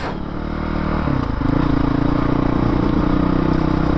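A 2019 Honda CRF450L dirt bike climbs a steep chute on an off-road trail, its engine droning loud and close with a rising pitch shift midway, plus light clatter and scraping from the terrain.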